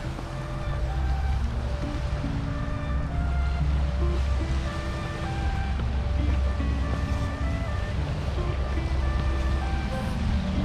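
Ocean waves wash steadily onto the shore at Qualicum Beach on Vancouver Island, a continuous broad roar with faint tonal sounds in the background.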